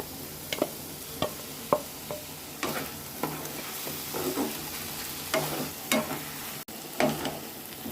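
Fried eggplant pieces added to radish greens frying in a pan, a continuous sizzle broken by a series of scraping and clinking stirring strokes at uneven intervals.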